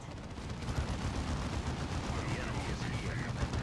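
Gunfire in Dawn of War 2 as fortifications come under assault: a dense, continuous rattle of rapid shots and rumbling blasts, fairly soft and sustained throughout.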